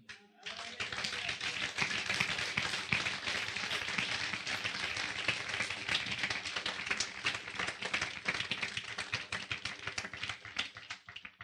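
A church congregation claps hard and steadily, a dense, loud wall of hand claps lasting throughout, with a few faint voices under it.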